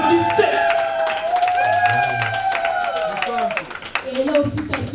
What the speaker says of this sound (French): Applaudissez pour le pasteur! Applaudissez!